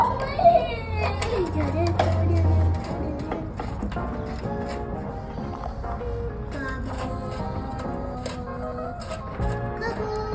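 A ratchet tightens a bolt on a Toro 21-inch commercial mower, making a series of quick clicking bursts under overlapping children's voices and chatter.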